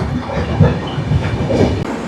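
Mumbai Mail pulling out of Durgapur station makes a loud, steady rumble with rhythmic clickety-clack of wheels on rail joints, heard close from on board and without voices.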